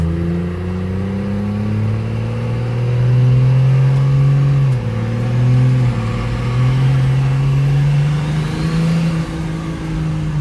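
A 450 engine revving up and down through its power bands, a loud close mid-pitched drone whose pitch climbs, dips and climbs again in smooth sweeps, with no talking.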